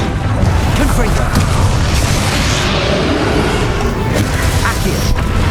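A Confringo explosive spell blast from Hogwarts Legacy booms through dense, continuous battle noise, with heavy low rumble and crackling bursts layered under ongoing game sounds.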